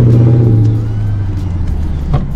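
A car engine close by, loud and strained as it accelerates with a deep rising drone that then settles into a steady lower hum, with no talk over it.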